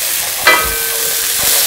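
Onions frying in a pan give a steady broadband sizzle, loud and close, with one brief clink or knock of a utensil partway through and no voices.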